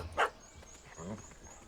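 A puppy barks in The Witcher 3, one sharp, close bark near the start followed by fainter whimpering yips, with game dialogue and background ambience underneath.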